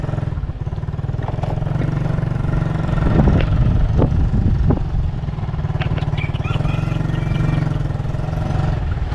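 A new motorcycle engine being broken in idles steadily and close, with a deep rumbling throb and a few brief revs partway through, running continuously.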